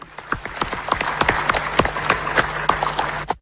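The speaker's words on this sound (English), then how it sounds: "Please let us give all of us a thunderous round of applause" An audience at a 2018 presidential debate claps, with distinct individual sharp hand claps standing out close by over a thinner background of applause, irregular and moderately loud.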